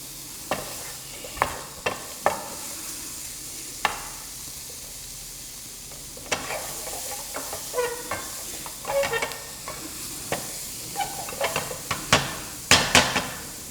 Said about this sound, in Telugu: లైట్గా సాల్ట్ వేసుకొని ఇలా ఫ్రై చేసుకోవాలి